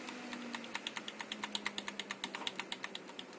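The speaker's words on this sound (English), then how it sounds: "So you just press delete on the keyboard" Computer keys are tapped in a quick, steady run of about twenty crisp clicks, heard up close and quiet with no talk, during a BIOS entry attempt on an Asus Prime X370 Pro motherboard.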